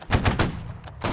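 Ragged musket volley in Holdfast: Nations At War, several sharp shots cracking in quick succession from a line of players, then a short second burst near the end.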